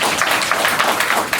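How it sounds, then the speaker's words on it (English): Audience applause, a dense continuous patter of many hands clapping at steady loudness through the short span, with no voices over it. "Let's give him a round of applause."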